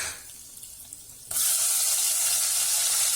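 Onion and green chilli hit a hot pan of oil with curry leaves and tomato for a radish sambar, setting off a sudden loud, steady sizzle after a quiet start.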